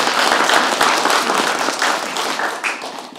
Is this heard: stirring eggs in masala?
no